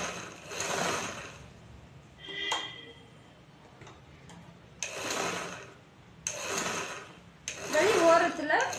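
Sewing machine stitching along the outer edge of a chudidar back neck, running in several loud bursts of rapid mechanical chatter separated by pauses, with a brief clinking sound between runs.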